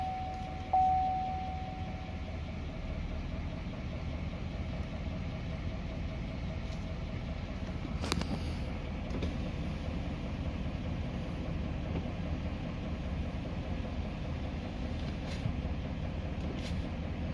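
A Duramax L5P diesel truck engine idles with a steady, low rumble, a brief clank early on and little variation throughout.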